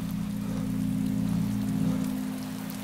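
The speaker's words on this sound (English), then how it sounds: "it's raining, isn't it?" Steady rain falling in the video game DayZ, a continuous even hiss of rainfall, loud and unbroken, with a low hum running underneath.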